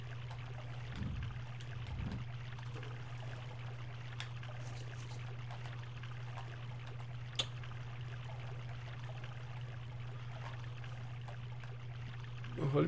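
Sewer water flows steadily through a stone channel in Prince of Persia: The Sands of Time, a continuous even wash with a low steady hum under it and a few faint clicks.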